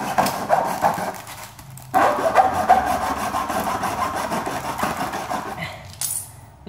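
Close-up rasping saw strokes cutting through a hard plastic LG fast phone charger, steady back-and-forth scraping with a brief pause partway through.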